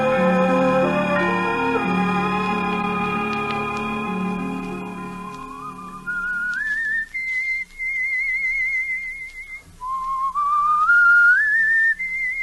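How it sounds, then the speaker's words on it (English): A person whistles a wavering tune alone, starting over a low sustained backing that fades, then continuing in long, sliding, slightly vibrato notes. "I can still hear him whistling that tune."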